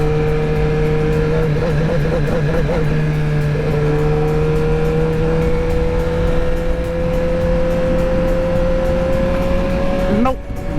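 Motorcycle engine accelerating while riding, a loud steady drone whose pitch climbs gradually as the bike gains speed, with wind noise throughout and a sharp burst near the end.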